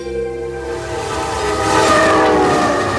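Beijing to Lhasa express train running steadily, its horn sounding long and loud over the rolling rumble and rail clatter, with no voices.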